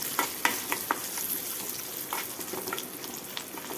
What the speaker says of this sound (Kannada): ಎಣ್ಣೆ ಕಾದ್ಮೇಲೆ ಅದಕ್ಕೆ ಸಾಸಿವೆ ಜೀರಿಗೆ ಚೂರು ಇಂಗು ಕರಿಬೇವು ಕೊತ್ತಂಬರಿ ಈ ಒಗ್ಗರಣೆ ಒಳಗೂ ಸ್ವಲ್ಪ ನಾವು ಅರಿಶಿನ ಪುಡಿ ಹಾಕೊಳಕತ್ತೀವಿ